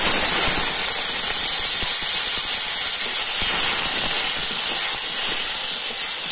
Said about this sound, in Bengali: আর এবার আমি ওই তেলের মধ্যে দিয়ে দিচ্ছি গোটা গরম মশলা, দিয়ে দিচ্ছি গোটা জিরে, দিয়ে দিচ্ছি একটা টমেটো